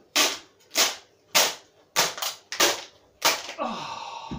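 Gaffer tape ripped off the roll in quick loud tearing pulls, about six sharp bursts in a row, followed by a longer smoother strip being drawn out at the end; close and alone with no talk.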